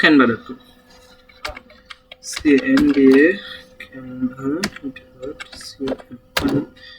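Typing on a computer keyboard into a Chrome browser, scattered light key clicks in short bursts, mixed in with a person talking.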